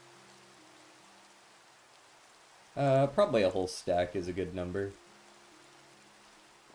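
Steady soft rain patters in a Minecraft world running the ATM 10 modpack, a faint continuous hiss throughout, with a person talking briefly over it midway.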